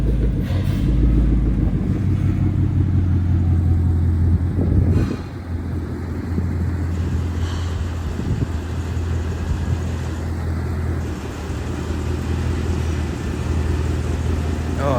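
A 2014 Mustang GT V8 with a louder exhaust rumbles deeply and steadily, heard from outside the car. The low drone holds throughout, with a brief dip and a slight swell partway through.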